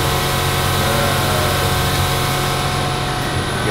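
An automatic car wash machine starts up and runs with a loud, continuous mechanical drone and broadband hiss, steady throughout with no pauses.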